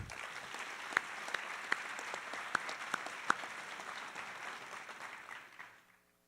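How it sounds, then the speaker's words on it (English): An audience claps steadily at a school senior honors assembly, a moderate even patter with a few sharper individual claps, gradually thinning and fading out at the end. "Please join me in a round of applause for Ms. Valerie Powell."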